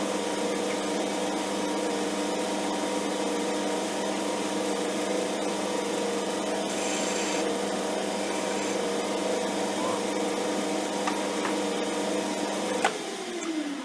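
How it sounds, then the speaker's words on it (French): A hand file works a small metal workpiece turning on a lathe while making a welding-table locking handle, a steady rasping drone over the running machine's hum, continuous for several seconds with no talking. "Un petit coup de lime."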